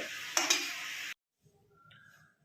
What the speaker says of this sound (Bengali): এদিকে বেগুনি ভাজা চলছে